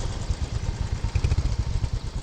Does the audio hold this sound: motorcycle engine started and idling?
yes